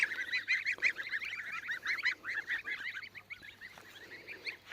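A cluster of young geese peeping and calling continuously, high chirpy notes overlapping in a busy, moderately close chorus.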